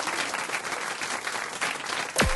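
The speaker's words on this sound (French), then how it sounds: "on vous applaudit" Studio audience applause on a French radio comedy show, steady dense clapping throughout, fairly loud and close, with a brief sweep at the end.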